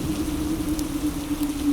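Steady rain falls on a poor family's hut on a cold night, a continuous even patter with a low tonal hum running beneath it throughout.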